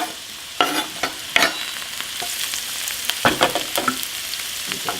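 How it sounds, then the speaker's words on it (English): Vegetables cook down in a pot with a steady sizzle, broken by repeated scraping clatters of stirring that come in uneven bursts, close and fairly loud, with no speech. "I'll stir them every couple minutes"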